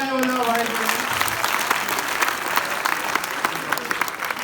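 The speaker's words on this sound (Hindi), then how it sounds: "ये 4 करके 4 बहुत जोरदार तालियां बजाओ भाई।" An audience breaks into loud, dense applause with some crowd noise, sustained throughout, as a tonal voice fades at the start.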